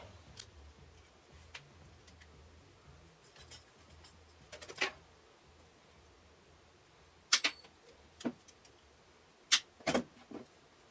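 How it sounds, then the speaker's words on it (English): Wire coat hanger being cut with a cutting tool, several sharp isolated snips and clicks, close by and separated by quiet pauses, the loudest coming in a cluster near the end, with no voices. "grab me a coat hanger and I'm going to cut it"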